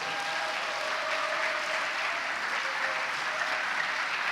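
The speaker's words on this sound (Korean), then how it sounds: "박수로 맞으세요." A church congregation at a Sunday praise service claps in a steady, dense wash of applause that runs unbroken from start to finish at moderate volume.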